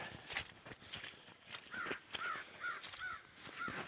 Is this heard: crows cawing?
yes